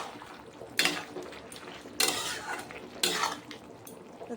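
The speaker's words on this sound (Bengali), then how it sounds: "এখন আরও কয়েকবার নাড়াচাড়া করে নিচ্ছি তরকারিটা" A spatula stirs a thick bean and eggplant curry in a pan, giving three distinct scraping strokes roughly a second apart over a quiet background, with faint clinks of utensil on metal.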